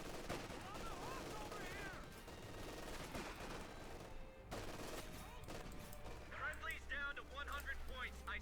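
Machine gun fire and scattered gunshots in a Company of Heroes 2 battle, a dense, continuous fusillade under game music and ambient combat noise throughout, with sharper bursts toward the end.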